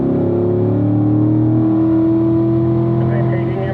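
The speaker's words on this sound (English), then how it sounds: "Now we can open up that throttle, build the speed up here." A Corvette on a race track accelerating under open throttle, a loud, close, continuous engine drone rising steadily in pitch, with someone talking over it.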